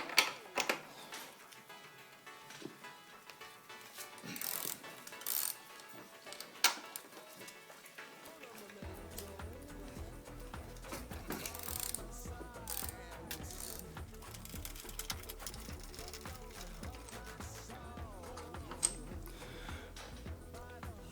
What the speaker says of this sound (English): Now I can take out the caliper bolts.